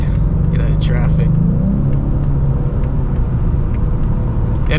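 A 2025 Ford Mustang EcoBoost cruising in traffic, a steady low engine and road rumble from inside the cabin with a brief rise as it accelerates, and other vehicles faintly passing.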